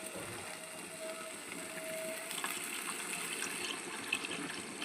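Water pours steadily onto soaked red lentils (masoor dal) in a pot, a continuous close gushing and filling sound with no talk over it.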